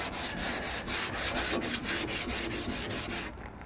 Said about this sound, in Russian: Вот, ну вот такими манерами шкурим.